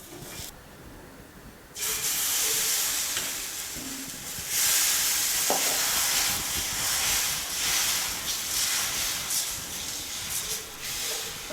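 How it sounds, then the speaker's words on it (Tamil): Wheat dosa frying on a hot griddle, a steady broadband sizzle and hiss that swells louder partway through and keeps crackling without pause, close and alone with no talking. "தோசையை சுற்றி எண்ணெய் ஊற்றிக்கோங்க. தோசை நல்லா வேகட்டும்."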